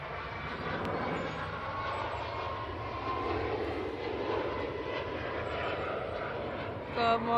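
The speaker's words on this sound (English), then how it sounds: "Ryanair jumped in front. They're off to Copenhagen. It's a 737 MAX 8." Ryanair Boeing 737 MAX 8 jet at Manchester Airport, a steady broad engine roar heard from a distance and holding level throughout, with people talking faintly over it.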